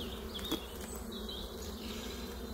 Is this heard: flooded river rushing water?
no